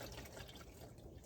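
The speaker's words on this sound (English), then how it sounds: "that's a good bit of oil coming out." Oil drains out of a Jeep XJ transmission, a steady low liquid pour with a faint trickle, close and continuous.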